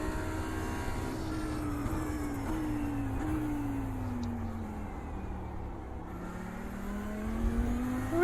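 A GT3 race car in a racing video game at Laguna Seca hums with a steady engine drone whose pitch rises and falls through shifts and corners, loud and continuous with no talk.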